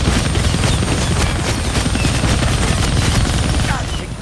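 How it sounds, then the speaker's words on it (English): Helicopter rotor thudding under sustained machine-gun fire in the Deadpool video game, a loud, continuous dense barrage that barely lets up, with a voice briefly breaking through the din. "I can't kill that chopper with my guns."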